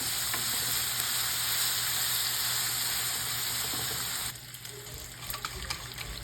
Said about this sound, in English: we put in the fry pan the bacon. We cook until the bacon is crispy